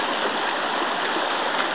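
A big creek rushes loudly and steadily as a young horse on roughly its sixth ride crosses it, the continuous water noise close by and unbroken throughout.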